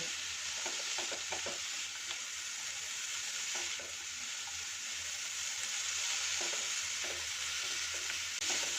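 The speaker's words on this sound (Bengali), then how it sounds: "ভালো করে এটাকে নাড়িয়ে রান্না করে নেব" Vegetables with salt stirred and cooking over medium heat in a pan for hot and sour spring onion soup, a continuous soft sizzle with intermittent scraping stirs, close and fairly quiet.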